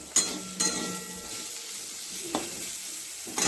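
Food frying in a wok-style kadai on a gas stove gives a steady close sizzle, broken by a few sharp clinks and scrapes of a spatula against the pan, with no talking.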